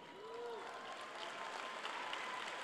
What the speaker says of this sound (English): you can certainly applaud for your elementary principals